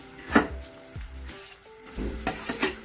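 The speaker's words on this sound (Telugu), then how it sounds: "మనం టమాటా ముక్కలు వేసుకుందాం" Tomato pieces dropped into a pan of softened onions for a prawn and tamarind-leaf curry, giving a few soft sizzling bursts and light scraping stirs, quiet and close, with no talking.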